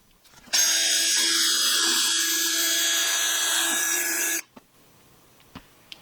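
A drill-powered mixer churns epoxy resin tinted with a few drops of dye, a loud steady whine running about four seconds before cutting off, followed by a couple of faint clicks.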